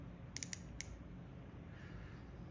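The rotating unidirectional 60-click bezel of a Valimor Gemstone Saint Denis automatic watch gives a handful of tiny, sharp clicks in a quick cluster, faint against a steady background hiss.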